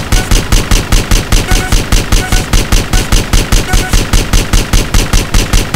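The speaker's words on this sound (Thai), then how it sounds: "นั่งยองยิงรัวไปเยอะ" Rapid automatic gunfire in GTA San Andreas, a steady stream of loud, evenly spaced shots from a crouched shooter, running for several seconds with no talk over it.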